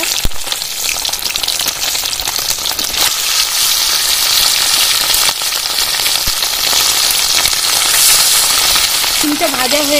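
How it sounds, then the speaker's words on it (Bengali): Boiled eggs fry in refined oil in a wok, a loud, steady, crackling sizzle close up, with occasional spatters and faint stirring throughout. "ডিমগুলো এবার ভেজে নেব।"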